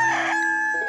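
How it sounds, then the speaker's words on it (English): A rooster crows once, loud and close, a single short cock-a-doodle-doo heard alone on a Texas ranch. "A thriving chicken coop has a male rooster for about every dozen hens, but roosters aren't the easiest birds to raise."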